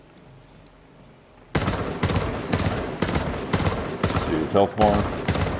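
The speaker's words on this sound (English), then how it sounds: "I'll also show you the hit damage when I shoot him." Rapid automatic gunfire in Ghost Recon Breakpoint, a loud burst of evenly spaced shots starting abruptly after a quiet lead-in, with someone speaking briefly between the shots.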